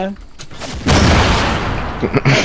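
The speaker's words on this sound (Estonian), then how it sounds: "keegi paneb mulle praegu see remote pomme" Remote explosives go off in Fortnite with a loud, sustained rumbling blast mixed with gunfire, after brief clatter, while players talk.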